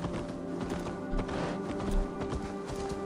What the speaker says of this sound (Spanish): al menos tenemos un caballo